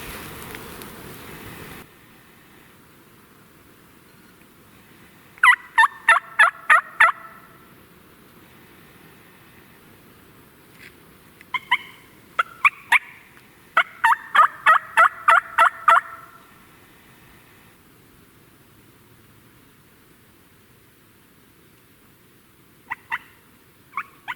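A handheld turkey call imitates gobbling in the outdoors at dusk near a roost, with several short bursts of rapid clucking yelps separated by quiet gaps and faint insect buzz in the background.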